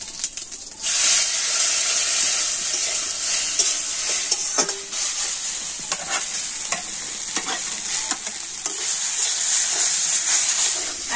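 Grated potatoes dropped into hot oil with whole cumin seeds give a steady, loud broadband sizzle and frying hiss, with a few scraping stirs and clinks along the way and no voices.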